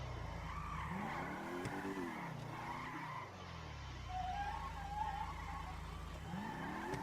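BMW M4 in GTA 5 sliding into a drift at speed, tires squealing in rising and falling howls over a steady engine drone, with a brief siren-like wail in the background, no voices.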